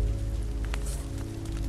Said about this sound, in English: This rain will turn to sleet.